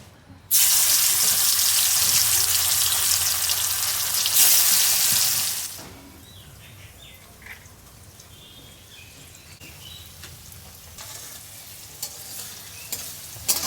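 Paneer cubes frying slowly over a low flame in hot oil, with a loud, steady sizzling hiss at first that drops to a quieter crackle with scattered pops and small clinks.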